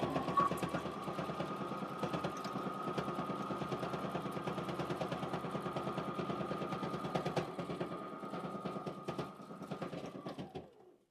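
A sewing machine runs steadily for about ten seconds, stitching a wallet with a fast, even mechanical rattle and a sustained hum, close and clear, slowing slightly near the end.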